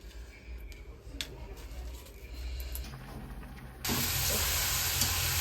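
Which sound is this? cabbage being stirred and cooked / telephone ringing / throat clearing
cabbage being stirred and cooked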